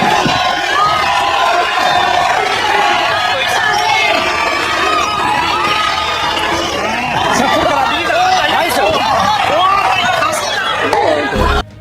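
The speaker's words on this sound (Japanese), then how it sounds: "下岡への声援が沸き起こっています" A boxing arena crowd roars in support of Shimooka during his second title defence, a loud sustained wall of cheering and shouting voices that carries on for the whole stretch before cutting off abruptly at the end.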